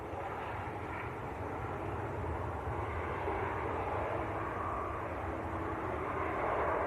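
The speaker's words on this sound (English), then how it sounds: "Ryanair on short finals. Ryanair from Lisbon in Portugal." A Ryanair airliner from Lisbon on short final into Manchester Airport gives a faint, steady jet rumble and whine that holds evenly throughout.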